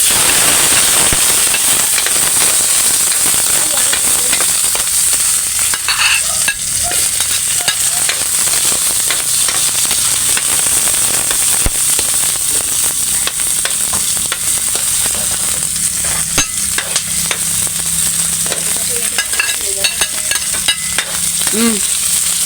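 Loud, continuous sizzling and crackling of garlic frying in a hot pan, with occasional scraping of stirring throughout.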